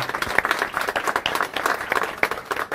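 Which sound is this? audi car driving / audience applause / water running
audience applause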